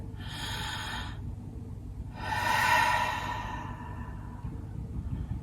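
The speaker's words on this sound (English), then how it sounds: "Let's take a breath." Two slow, airy breaths at the start of a yoga session, a softer inhale followed by a longer, fuller exhale, close and quiet.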